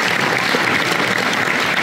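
Dense, steady applause fills the room at a motorcycle adventure festival awards evening, loud and continuous throughout with no voices on top.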